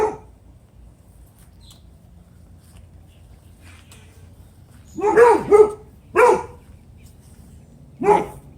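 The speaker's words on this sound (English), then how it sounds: "Neighbor dogs say hello." Dogs bark in short bursts: a quick double bark, then a single bark, then another after a pause, over quiet background hiss.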